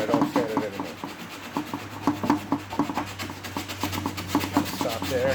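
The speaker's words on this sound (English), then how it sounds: "Sand this right out to the white edge again." Coarse 60-grit sandpaper rubbed by hand over fairing filler during a Force 5 mast step repair, a steady rhythmic rasping of repeated strokes, close and fairly loud against a low background hum.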